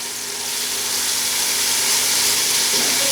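Garlic ginger paste sizzling with softened tomatoes in a hot pan, a steady loud hiss and crackle of frying that holds throughout without talk.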